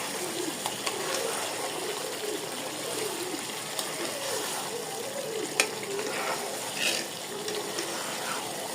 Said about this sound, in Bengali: এখন দিয়ে দিচ্ছি মাংসটা